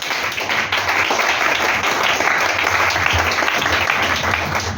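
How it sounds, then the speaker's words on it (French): A church congregation claps and cheers to acclaim the Lord, a dense, continuous burst of applause that fills the whole stretch at a steady, fairly loud level. "Acclamons le Seigneur."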